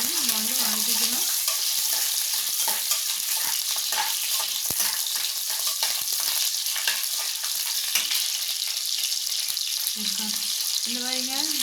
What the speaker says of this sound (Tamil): இது பொரிஞ்சதும் கருவேப்பிலை, சின்ன வெங்காயம், இது நல்லா பொன்னிறமாக வரையும் நம்ம வந்து வதக்கிக்கணும்.